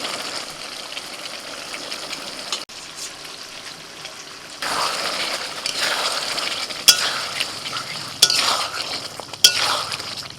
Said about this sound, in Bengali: এবার তুলে তুলে আমি দিয়ে দিচ্ছি মশলার মধ্যে।